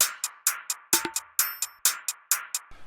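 A percussion loop made in FL Studio plays alone: crisp, evenly spaced hits in a tight repeating pattern, with a few deeper thumps and a bright metallic accent midway, clear and close.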